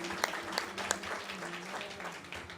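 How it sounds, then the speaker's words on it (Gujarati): A live audience at an evening devotional gathering gives a short burst of applause for the banjo player accompanying singing students, with close, busy clapping and a voice talking over it. "એકવાર જોરદાર તાળી આપણા બેન્જો માટે થઈ જાય"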